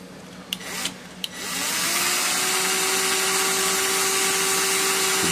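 A power tool deburring a carburetor part starts after a few light clicks and taps, then settles into a steady, loud high-pitched whine that holds close by without a break.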